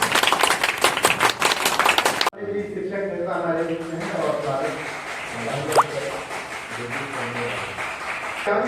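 Audience applause at the inauguration of the Shaheed Bhagat Singh library in Gorakhpur: a dense burst of clapping for about two seconds, then it cuts off abruptly and someone speaks over a quiet room.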